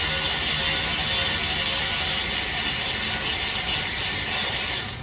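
A ratchet wrench tightens wheel bolts on a Ford Transit during a brake job, a loud, close, continuous rapid clicking of the pawl that runs almost without pause before easing off at the end.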